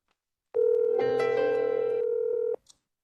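A single steady telephone call tone from Webex Calling sounds for about two seconds, clean and alone, then cuts off with a brief click.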